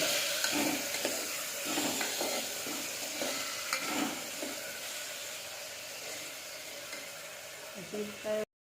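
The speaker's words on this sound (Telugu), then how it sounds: "ఆ ఉల్లిగడ్డ వేగిందండి బాగా ఇప్పుడు టమాటాలు వేసుకోవాలండి వేసుకొని బాగా కలుపుకోవాలండి" Onions and tomatoes frying in a pan for ridge gourd curry, a continuous bright sizzle broken by repeated scraping stirs of a spatula, close and fairly loud, ending abruptly.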